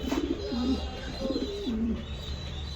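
Fancy Lahori pigeons giving repeated low, rolling coos, two clear bursts in a rhythmic pattern, close by over a steady room hum.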